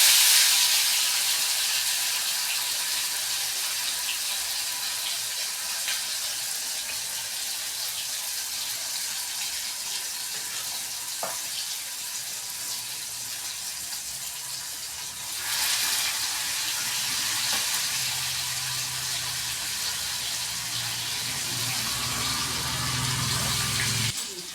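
Carp frying in a pan of oil in a home kitchen: a steady, dense sizzle and hiss running throughout, loud and close, with slight swells partway through.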